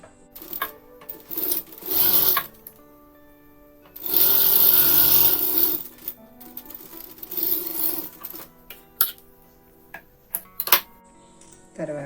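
Domestic sewing machine stitching a folded half-inch hem joint on baby frock fabric, running in short bursts of rapid mechanical ticking with pauses between, close and clear, no talk over it.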